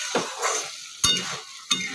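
Soybean curry with garam masala is stirred in a pan, giving three quick scraping strokes with soft sizzling between them over two seconds, close and fairly loud, with no voices.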